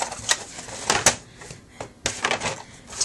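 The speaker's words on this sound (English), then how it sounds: "I just used my regular paper trimmer" A regular paper trimmer slicing sheets of paper for an album: sharp, scraping cutting swipes and clacks, several in a row, close and fairly loud, with no talking.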